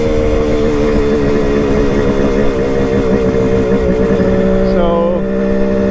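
A Kawasaki KH500 two-stroke motorcycle engine runs loud and close with a buzzing, wavering note as the throttle is rolled on, then the pitch eases toward the end.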